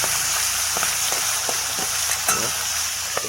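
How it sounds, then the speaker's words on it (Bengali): Boal fish frying in hot, spattering oil, a loud, dense sizzle with scattered pops and utensil taps, close and steady throughout, with no talking. "ঢেকে দিচ্ছে কেননা খুব ফুটছে তেল ফুটছে গায়ের মধ্যে আসছে"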